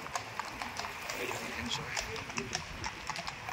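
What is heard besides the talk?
horses' hooves clip-clopping on a London road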